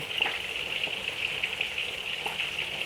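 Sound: tilapia and catfish frying in oil

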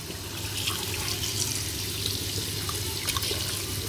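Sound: running water washing freshly gathered shellfish

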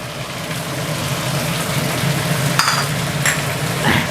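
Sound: stir-frying chili and basil leaves with clam meat

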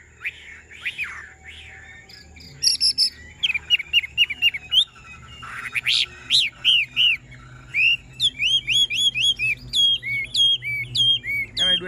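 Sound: hwamei songbird singing in cage

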